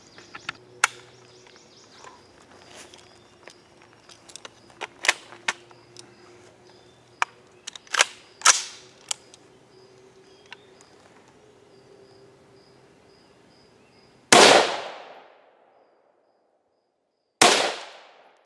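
Custom high-velocity 5.56 rifle rounds fired at a level III armor plate outdoors: two loud, sharp gunshots with long ringing decay late on, preceded by scattered faint clicks and taps over a quiet background with insect-like buzzing.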